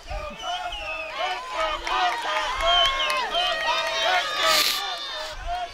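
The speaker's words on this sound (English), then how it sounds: "Lots of cheering on both sides." A crowd cheers and shouts at a boys lacrosse championship game between the Petaluma Trojans and Casa Grande in the fourth quarter. The sound is a steady, lively roar of many voices that stays loud throughout.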